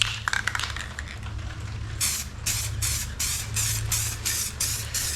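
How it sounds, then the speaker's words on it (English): An aerosol can sprays onto a car steering wheel in a run of short, hissing bursts, about eight quick pulses in a steady rhythm, close by, after a moment of rustling. "after you spray it, clean off the nozzle"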